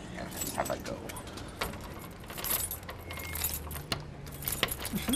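A bunch of keys jangles and scrapes as someone tries a door key in a lock, with irregular metallic rattles and clicks close by.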